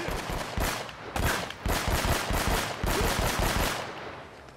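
Gunfire in the video game Uncharted: Drake's Fortune, several loud bursts of shots in quick succession with short gaps between volleys, fading at the end.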